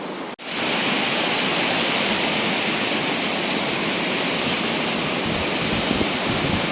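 A powerful mountain waterfall near a refuge in Italy roars in a dense, unbroken rush of water, loud and close, steady from start to finish after a brief click at the outset.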